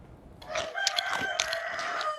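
A rooster crows in one long, loud, close call that holds steady before trailing off, with no voices alongside.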